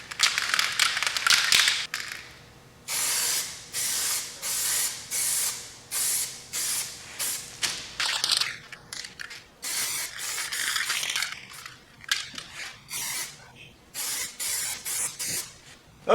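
An aerosol can sprays primer onto a car in a home garage, a hissing stream that comes first as one long pass, then as a regular series of short bursts with quiet gaps, close by.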